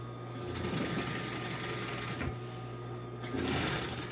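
Sewing machine sewing car interior upholstery for a 1955 Chevy two-door post in a trim shop, set to its longest stitch, a continuous close mechanical whir with a hum beneath and a brief pause midway.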